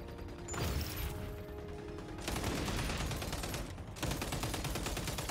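Rapid automatic gunfire in XDefiant, a loud, dense, sustained stream of shots that runs almost without pause, briefly letting up near the middle and again toward the end before resuming.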